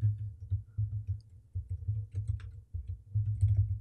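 Computer keyboard keys tapped in quick irregular bursts while filling in fields of a web form, close and fairly quiet, with a low steady hum underneath.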